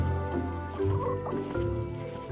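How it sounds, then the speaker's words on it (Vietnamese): An animated cartoon rooster clucks in a steady, close, busy stream of fowl-like calls over a constant musical background. "Ồ, anh gà trống."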